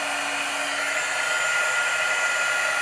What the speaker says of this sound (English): I'm going to grab my heat gun. We're going to heat set from the bottom.